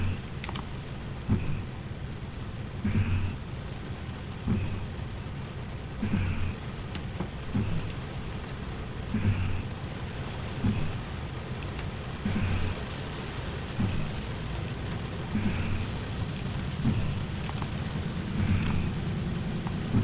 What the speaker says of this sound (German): Dann aber Regen.